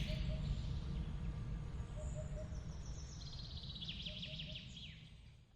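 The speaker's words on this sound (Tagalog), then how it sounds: "Tahimik ang umaga, maririnig ang huni ng mga ibon" Birds chirping faintly in the distance, with short repeated tweets over a low steady background rumble.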